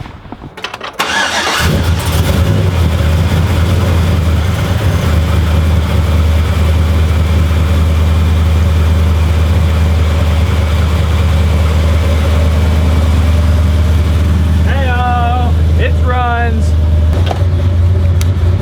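Upgraded engine of a 2004 Chevy Silverado cranks and fires up close by, then settles into a loud, steady, aggressive rumbling idle, with brief voices near the end.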